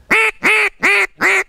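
A duck call imitates a mallard hen's greeting call with four evenly spaced, loud, nasal quacks in quick succession, close up.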